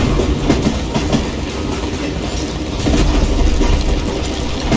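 Continuous rolling train in the Call of Juarez Gunslinger video game, with loud clickety-clack of wheels over rail joints and a dense rumbling wash throughout, no voices.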